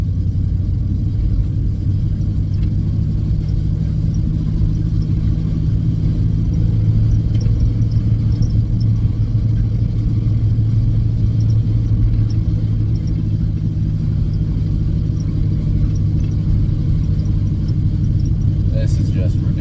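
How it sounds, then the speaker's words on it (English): A car underway with a heavy drive shaft vibration gives a deep, continuous low rumble that stays loud and steady, with a person talking over it. "heavy vibration. And it's definitely drive shaft related."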